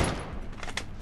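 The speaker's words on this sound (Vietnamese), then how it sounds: "Anh vừa bắn lộn đây em." A short burst of gunfire in the Free Fire battle royale game: a loud crack at the start, then a ragged spatter of further shot sounds over about a second.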